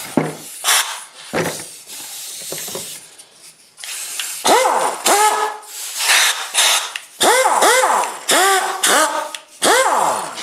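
An old, worn air impact wrench works on a truck's pitman arm, hissing air bursts with rising and falling whines in repeated short pulses, close and fairly loud.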